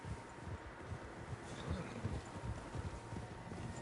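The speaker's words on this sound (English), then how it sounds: "Horses, quite a few of them." Several horses gallop in the Red Dead Redemption 2 video game, a dense rolling clip-clop of hooves with wind, steady and moderately distant.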